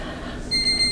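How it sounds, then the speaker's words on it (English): A kitchen timer goes off as a homemade corn-free pizza bakes, giving a steady, high-pitched electronic beep over a constant background hum of kitchen noise. "my timer just went off"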